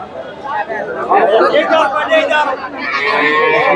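Busy cattle market at Bogura's Dhap cow haat selling milking cows with calves, late in the day: steady crowd chatter fills the scene, with livestock sounds mixed in and someone talking close by.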